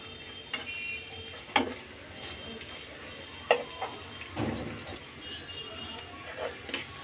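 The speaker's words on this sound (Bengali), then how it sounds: "পেঁয়াজটাকে আমি 2 মিনিটের মতো এভাবে ভেজে নিব।" Sliced onion frying in a pan for a fish and pointed gourd curry: a soft, steady sizzle broken by a few sharp clacks of a spoon against the pan.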